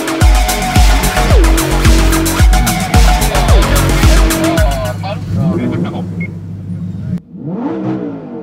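A Lamborghini Huracan STO race car's engine revs hard through repeated rising gear pulls, each ending in a sharp shift. The loud roar then drops away to a quieter drive with a brief tire squeal.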